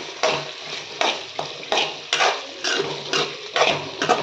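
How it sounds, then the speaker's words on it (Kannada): Vegetables frying in oil in a pan with salt give a soft sizzle under repeated scraping and stirring strokes from a utensil against the pan, roughly one every half second, close and moderately loud. "ಇದಕ್ಕೆ ಸ್ವಲ್ಪ ಸಾಲ್ಟ್ ಕೂಡ ಹಾಕ್ಕೊಂಡು ಫ್ರೈ ಮಾಡ್ಕೊಳ್ತಾ ಇದ್ದೀನಿ"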